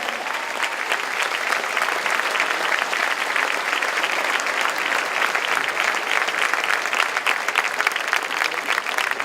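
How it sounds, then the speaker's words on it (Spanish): Sustained applause from a town crowd at a Festa Major prize ceremony in Blanes, dense steady clapping filling the whole stretch at an even loud level with no voices on top. "este aplauso de todo el pueblo"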